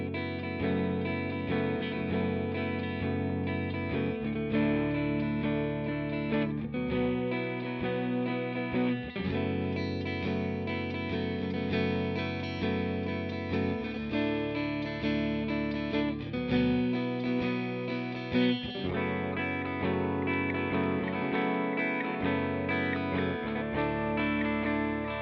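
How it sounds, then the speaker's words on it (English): A clean Harley Benton JA-25th electric guitar plays sustained chords in coil split mode with bright, thin tones, changing every few seconds in a steady progression, with no voices. "Now let's hear some sounds for the coil split tones as well."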